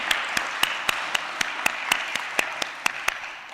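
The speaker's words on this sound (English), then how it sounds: "How about a hand of applause?" A small church congregation claps at a Sunday service, with sparse, distinct handclaps ringing out at an irregular, roughly steady pace over a soft background of room noise.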